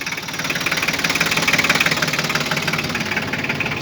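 A Japanese three-cylinder tractor engine idles steadily nearby, its knock pulsing in a fast, even rhythm with no voices.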